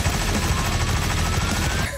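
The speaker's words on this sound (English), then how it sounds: "I just had to shoot him one more time." A loud, rapid burst of gunshots fired at a target in the video game Hitman fills the moment almost without a break, then cuts off at the end.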